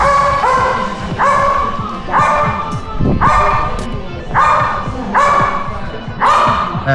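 Dog barking in a steady series of loud, close barks, about seven in quick succession, with some yipping between them during an indoor show with a dog at a resort.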